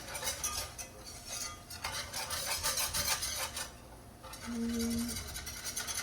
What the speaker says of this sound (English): whisk until the flour turns brown